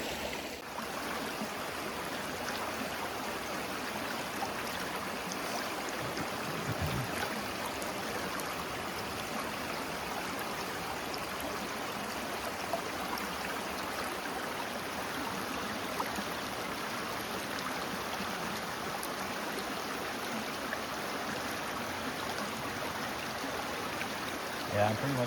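Creek water flows steadily beside a tented campsite on the Appalachian Trail, a continuous close rushing and trickling wash that holds even for the whole stretch, with no talk.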